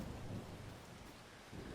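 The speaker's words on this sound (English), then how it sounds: "even though it's chucking it down with rain" Heavy rain pours steadily in Farming Simulator 25, a dense unbroken hiss with low thunder rumbling underneath, loudest at the start and again near the end.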